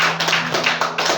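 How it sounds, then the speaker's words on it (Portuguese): Congregation clapping hands during a Portuguese-language evangelical church service, steady dense rhythmic claps throughout, fairly close and full with no talk over them. "as palmas são para o Senhor Jesus Cristo"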